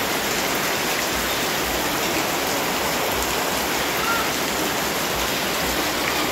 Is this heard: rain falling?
yes